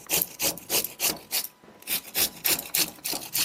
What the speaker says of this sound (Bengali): পেঁপেটাকে এখন আমি সুন্দর করে কেটে এটাকে ছিলনির সাহায্যে এটাকে সুন্দর করে আমি ঘষে নেব